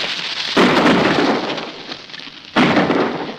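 Two loud, booming gunshot blasts from soldiers firing at convicts escaping on horseback, each one a sharp onset followed by a long, rumbling decay, the second coming about two seconds after the first.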